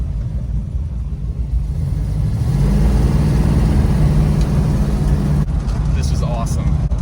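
A 1971 Dodge Super Bee drives hard on a road, its engine a loud steady rumble that swells as it accelerates, with a brief change in tone near the end.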